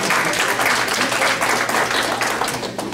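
A crowd at a college TRiO Day celebration claps loudly in a steady, continuous wash of applause that tapers slightly toward the end.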